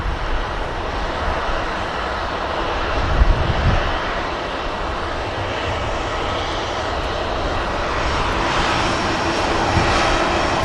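A Boeing 737 MAX jet taking off at Manchester Airport produces a loud, sustained engine roar with broad rumbling and a slight swell around three seconds, heard alone with no voices.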